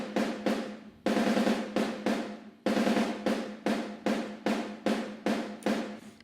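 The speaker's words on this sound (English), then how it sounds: "our snare room sample, which on its own just sounds like this" Snare drum room sample hit alone in a steady pattern, each crack ringing out with roomy wash and decay before the next, quiet and unaccompanied.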